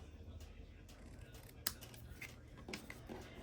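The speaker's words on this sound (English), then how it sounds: "I'm gonna take my snips and I'm just gonna trim here." Craft snips trimming a straight edge off a paper scrap while making a Christmas card, soft close snipping with one sharp cut standing out over a low background murmur.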